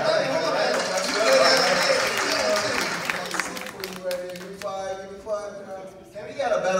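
An audience at an elementary school math contest claps for the student contestants, a dense patter of applause that fills the room and gradually thins out, with scattered voices talking over it near the end.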